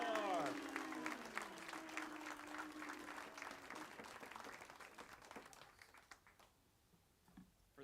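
A crowd applauds warmly after a star soccer player, MLS All-Star Brad Stuber of Austin FC, is introduced at a hometown heroes showcase; loud clapping swells at first, then gradually thins and fades out.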